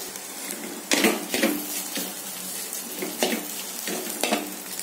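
Okra stir-fry (vendakkai poriyal) sizzles in a pan while a utensil stirs and scrapes it in several distinct strokes, close and moderately loud, with no talking.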